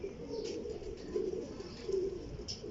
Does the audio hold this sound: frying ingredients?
no